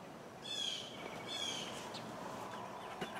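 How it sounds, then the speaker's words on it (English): Birds singing at sunrise on an Easter Sunday morning, two clear whistled phrases rising out of soft outdoor background hiss, fairly faint and distant. "All the birds are singing."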